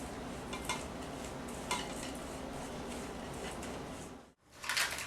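Kanafeh ingredients are stirred in a bowl, with a continuous scraping and clinking of a utensil against the dish and a few louder knocks, cut by a brief silent gap near the end.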